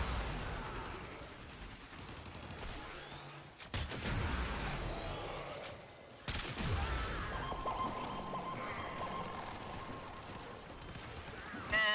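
Sniper rifle gunfire in a video game: a few loud, sharp shots burst out of a dense, busy game soundscape, with the heaviest blasts falling apart from each other.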